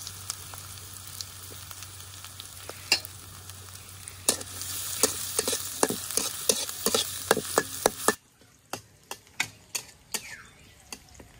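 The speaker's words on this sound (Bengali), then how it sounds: "পেঁয়াজ কাঁচামরিচটা খুব ভালোভাবে ভেজে নিছি" Chopped onion and green chilli fry in hot oil in a wok: a steady, close sizzle for about eight seconds, then it drops away, leaving sharp stirring clicks and taps against the pan.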